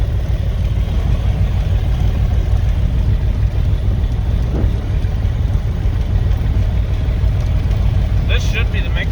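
A rebuilt aircraft engine from an abandoned airplane runs steadily and loudly for the whole stretch, a dense continuous roar with a brief higher rattle near the end, and voices can be heard over it.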